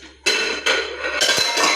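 Metal cooking pot handled in a home kitchen, a few sharp clanks and scraping clatters close by, with no talk.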